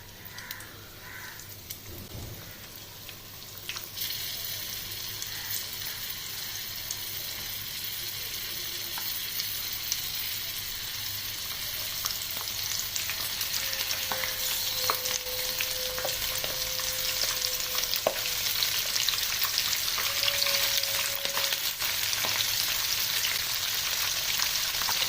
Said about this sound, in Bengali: এই যে তেলটা যেন মিডিয়াম বা লো ফ্লেমে থাকে, তাতে মাছগুলো ভালো করে ফ্রাই হবে।